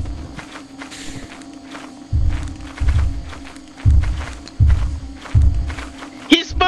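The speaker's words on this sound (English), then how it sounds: "I don't like that footsteps are getting very close." In the Lethal Company game, footsteps approach as a string of heavy, thudding steps that grow closer and louder, ending in a sharp knock.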